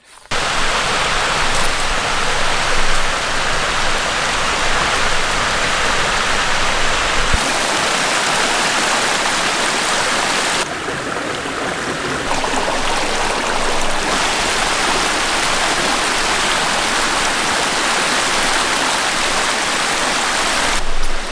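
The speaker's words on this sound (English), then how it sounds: "You can't see the waterfall from the top because it sort of disappears over that rock" Punch Bowl Falls, a waterfall pouring over rock into a swimming hole on the Mid-North Coast, roars as a loud, steady rush of falling water that carries on without a break.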